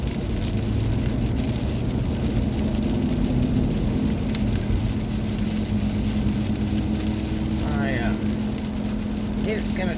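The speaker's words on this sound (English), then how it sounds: "the rain just continues" Steady rain pours down on the roof of a storage unit, a dense continuous hiss throughout, with a low rumble underneath and a voice speaking briefly near the end.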